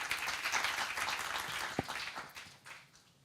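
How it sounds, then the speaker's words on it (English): Audience applause at a creativity and mobility forum in honour of a presenter, a broad wash of clapping that stays steady and then fades toward the end, with one sharper clap standing out midway. "Please, another round of applause to Mateja Lazar."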